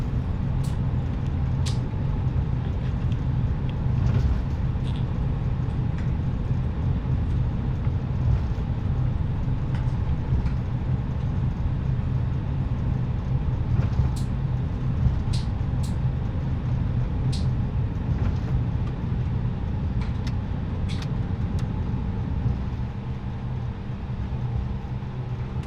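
An Airbus A320 in Microsoft Flight Simulator 2020 slows on landing with reverse thrust: a continuous deep engine roar and rumble, steady and loud throughout, with occasional faint clicks above it.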